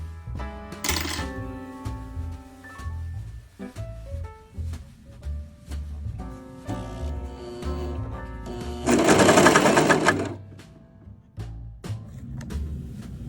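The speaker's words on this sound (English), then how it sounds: "So now you are ready to serger your garments." A Brother 1034DX serger stitches along fabric in bursts of mechanical whirring, separated by short pauses and handling clicks, with one longer, louder run near the end.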